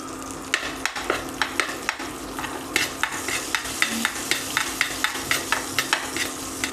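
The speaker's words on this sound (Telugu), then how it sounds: "నెయ్యి కొద్దిగా హీట్ అయిన తర్వాత అర స్పూన్ ఆవాలను వేసుకుని చిటపట అనే వరకు వేగనివ్వాలి." Rapid, irregular crackling and popping of mustard seeds spluttering in hot ghee, a dense flurry of sharp pops close by over a steady sizzle.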